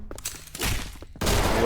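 Pistol shots from a Roblox game, a couple of sharp reports with dense noisy bursts running together, the loudest one near the end, and no talking.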